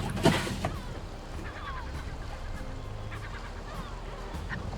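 Ducks near a sailboat anchored on the hook give a few honking, quacking calls, one louder burst at the start then fainter scattered calls over gentle water and wind ambience.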